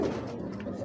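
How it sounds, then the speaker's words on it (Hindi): A Teddy pigeon gives a short, close, soft coo that fades out within a second. "ये टैडी कबूतर है"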